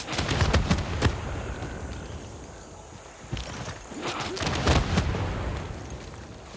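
Artillery-style units bombarding a town in the strategy game Civilization 6, with a series of heavy booming impacts and crackling blasts spread across the stretch amid rumbling battle noise.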